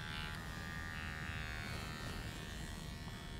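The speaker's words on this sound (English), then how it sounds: "when we come back with the trimmer on the neck, all we have to do is pull this down and clean up the fuzz on the neck" An electric hair trimmer buzzes steadily and close while cleaning fuzz from the back of a neck during a barber haircut, a continuous motor hum with no speech.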